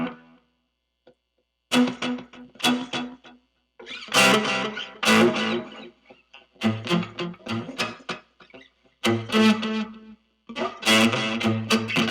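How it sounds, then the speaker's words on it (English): Electric guitar played through a Fender Champion 20 practice amp with its digital delay and reverb effects, strummed and picked phrases ringing out with echoing repeats and a lingering tail, loud and close. "Delay plus reverb."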